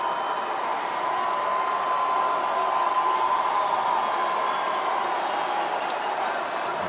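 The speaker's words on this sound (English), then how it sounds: "The crowd making some noise here for Arenado." Steady, sustained crowd noise fills a baseball stadium during a Marlins–Cardinals game as fans cheer for a batter, a broad continuous roar at even loudness throughout.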